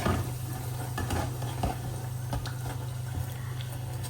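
Food frying in a pot of oil, a continuous crackling sizzle with a low steady hum and occasional utensil knocks.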